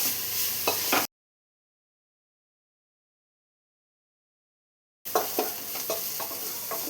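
Sliced onions sautéing in oil in a pressure cooker for kadachakka chicken kurma, a close steady sizzle with a few stirring scrapes, cut off by a long silent gap before resuming.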